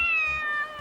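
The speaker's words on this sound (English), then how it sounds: "It's that damn cat again." A cat in the point-and-click adventure game The Mystery of the Druids lets out one drawn-out, clear meow that fades slightly at the end, loud and alone.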